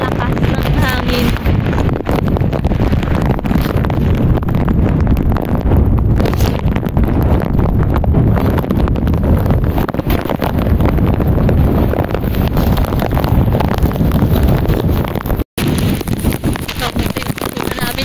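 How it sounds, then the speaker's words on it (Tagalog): Strong typhoon wind buffets the microphone on a farm field without letup, a dense roaring rumble that stays loud throughout, with a brief dropout near the end. "Sobrang lakas ng hangin."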